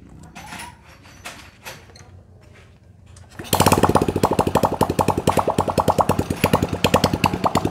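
A Honda Supra Fit motorcycle engine that smokes heavily starts after a few seconds of quiet shop noise, then idles loud and close with a fast, steady, rattling pulse.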